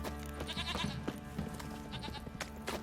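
Sheep in The Witcher 3 video game bleat several times in quick succession, fairly close over a faint game background.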